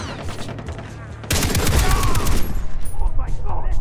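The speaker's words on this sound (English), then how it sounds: "Who's shooting at me?" Rapid gunfire from Far Cry 3 co-op play bursts in after a quieter stretch, a dense fusillade of loud repeated shots rolling on for over two seconds before tapering into scattered reports.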